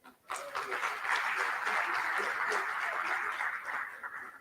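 Applause for five student rapporteurs at a conference on youth and the fight against corruption, starting abruptly and swelling into steady, moderately loud clapping from a crowd before tapering near the end.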